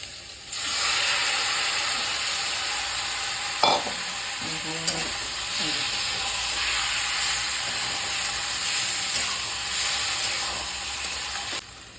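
Lentils hit hot frying spice paste for Bengali mung dal, giving a loud, continuous sizzle and hiss with a few brief clinks of stirring, and no voices.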